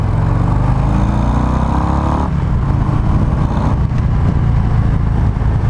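A 2023 Harley-Davidson Breakout 117 V-twin rumbles loudly and continuously while being ridden, the engine note rising through the gears, then easing into a deep steady drone under wind noise.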